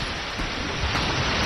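Thunder from lightning in The Last Guardian video game: a steady, dense roar of rumbling and rain-like noise that swells slightly toward the end, loud and continuous with no talk over it.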